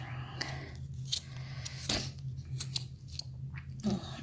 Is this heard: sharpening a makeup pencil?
yes